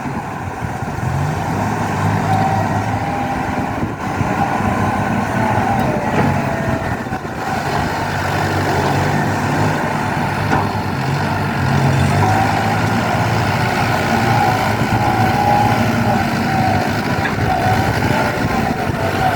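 A Kubota M108S tractor engine running while preparing soil for planting sugarcane, a loud, continuous diesel rumble with a rough low-end throb that stays steady throughout, with no voices.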